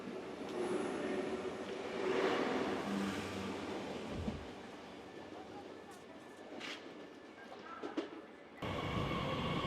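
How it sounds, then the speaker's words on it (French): A new train rumbles and rolls into a French station with steady rail noise and brakes squealing faintly, a loud continuous wash that shifts near the end. "Donc là enfin on a un nouveau train."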